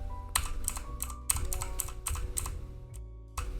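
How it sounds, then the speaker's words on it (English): Computer keyboard keys clicked in quick succession, close and crisp, with a few sharp taps spaced unevenly and a brief gap before a final press. "once I click on the F key it turns on, and if I click again it will turn off"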